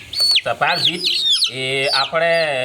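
Cockerels cluck and squawk loudly and close up during night beak trimming in a poultry house, with someone speaking French over the birds.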